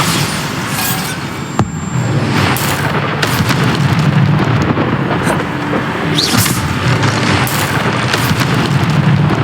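Bombarda blasting spell explosions from Hogwarts Legacy combat, a dense run of loud booms and bursts layered over continuous battle noise with sharp impacts and whooshing spell effects throughout.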